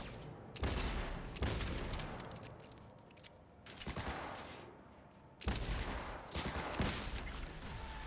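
Loud revolver shots in the Cyberpunk 2077 Phantom Liberty expansion, several heavy bursts separated by short gaps and echoing tails, with no talk.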